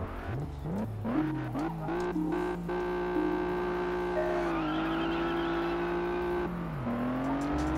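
A Mercedes AMG race car engine in Test Drive Unlimited on PS2 revs and shifts through gears, with a loud steady drone, rising pitch sweeps and brief tire squeal, alone with no talk.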